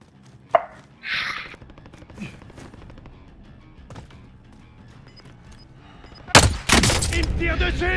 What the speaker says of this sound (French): Il me tire dessus!